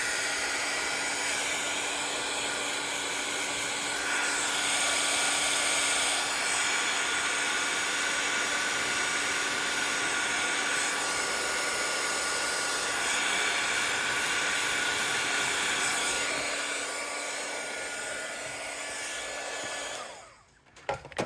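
An embossing heat gun blows hot air over paper to melt silver embossing powder, a steady loud broadband whoosh with a faint whine that runs unbroken for about twenty seconds before clicking off abruptly.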